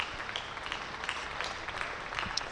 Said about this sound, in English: That'll be another warm round of applause for Keith Barker